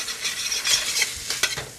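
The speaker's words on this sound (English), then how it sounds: "my sausage is starting to sizzle up back there. I can hear it sizzling good here." Sausage sizzles in a pan with a steady crackling hiss, close and moderately quiet, punctuated by a few sharp spits and pops.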